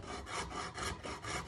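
A coping saw cuts through wooden quarter round trim by hand, giving close rasping strokes in a steady back-and-forth rhythm of about four passes, with no talking.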